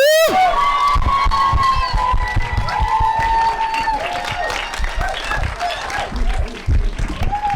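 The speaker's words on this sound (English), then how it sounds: "please, folks, give a super big round of applause to our friend" Live show audience breaking into applause and cheering, dense loud clapping with whoops and shouts, a voice speaking over the crowd at the start.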